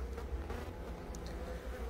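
A honeybee settles right on the camera during a hive inspection in an apiary, its close buzzing a steady low hum running throughout.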